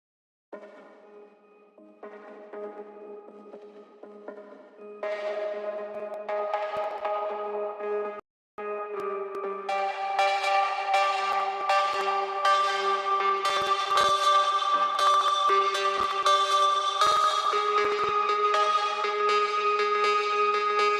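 Layered synthesizer chords build up in stages, bright and reverberant, with a brief dropout midway before a fuller, sustained stack rings out.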